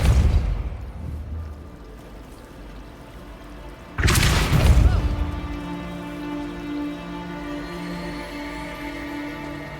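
A Depulso spell cast in Hogwarts Legacy lands as a sudden loud whooshing burst midway, fading into a ringing magical shimmer over a quiet ambient bed.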